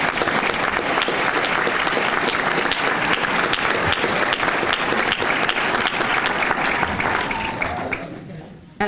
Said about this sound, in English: Please give the middle college graduates a round of applause.